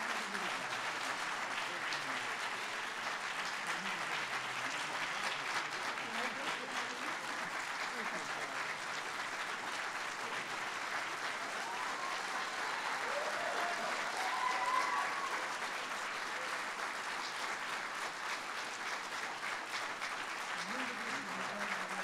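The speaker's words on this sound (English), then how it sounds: "Now we can applaud." An audience applauds the recipient of the 2018 Hearst Award for Outstanding Service in Professional Journalism, a sustained, even wash of many hands clapping with faint voices and cheers mixed in.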